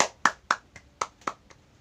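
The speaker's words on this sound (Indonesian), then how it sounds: "Tepuk tangan untuk kita semua." Children in an elementary school classroom clap in a quick patterned rhythm, about seven sharp, close hand claps grouped in short bursts, with no voices.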